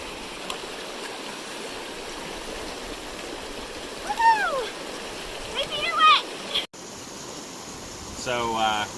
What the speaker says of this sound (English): So we're about to cross our third river